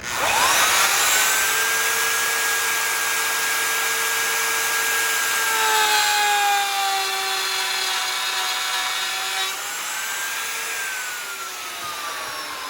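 Power saw cutting wood for a coat rack, a loud sustained whine whose pitch dips and shifts as the blade bites, heard close and alone for about thirteen seconds.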